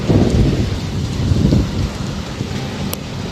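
Rain pours hard at a railway station while thunder rumbles deep and loud, rolling in a couple of heavy swells under the constant downpour.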